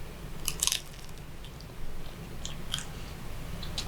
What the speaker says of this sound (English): Let's see if these egg rolls are still crunchy.